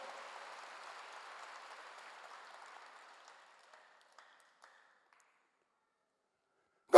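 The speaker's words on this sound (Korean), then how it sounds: "박수로 하나 돌리시기 바랍니다." Church congregation clapping during a sermon, a dense wash of applause that fades out over a few seconds, leaving scattered last claps and then a sharp single knock at the end.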